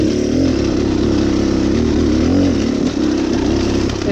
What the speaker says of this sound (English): In third gear right now and just lugging along, no problems.